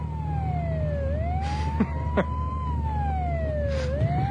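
An ambulance siren wails, its pitch sliding slowly up and down over a low traffic rumble, fairly close by.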